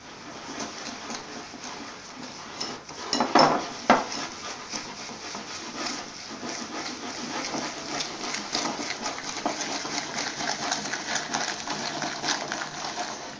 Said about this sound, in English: now we put the sugar into the yolks, and now we have to mix.